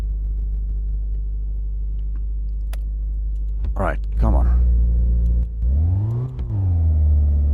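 A car engine in the garage game My Garage straining up a hill, a steady low drone rising into bursts of revving and a pitch sweep, close and loud, with someone talking briefly over it.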